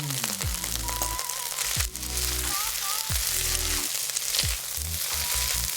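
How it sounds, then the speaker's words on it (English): Egg white crackles and sizzles with seasonings in a hot wok, with repeated scraping tosses at a steady pace; close and fairly loud. "After 30 seconds of stir frying in the seasonings, we can add the egg white."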